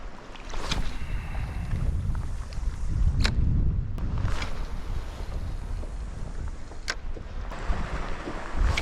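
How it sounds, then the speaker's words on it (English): Westerly wind blows along sea cliffs, a steady, gusty roar buffeting close to the microphone, with a few sharp clicks scattered through it and no voices. "That wind has come away from the west like it was forecast to"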